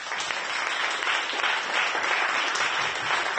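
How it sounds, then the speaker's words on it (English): A conference audience at a local news summit applauds steadily, a dense even wash of clapping that holds for a few seconds at moderate loudness, with no voices over it. "Let's get another round of applause."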